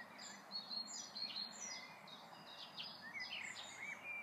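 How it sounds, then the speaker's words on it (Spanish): Small birds chirping and tweeting among allotment gardens, a quick scatter of high calls repeating over quiet outdoor background, faint and fairly distant with no voices. "no hay un sonido, solamente de los pajaritos, nada más."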